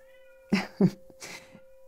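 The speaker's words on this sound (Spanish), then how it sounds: "perdonen si están escuchando a mi gata" A cat meows a few times in short, close calls, with a faint steady hum in the background.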